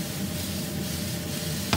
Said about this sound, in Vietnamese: đó rồi mình xào lên ha